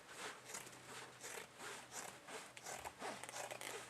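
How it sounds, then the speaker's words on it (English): Scissors snipping through paper, a quick regular run of crisp cuts close by, fairly quiet and with no voice over them. "can you hear how good those scissors are"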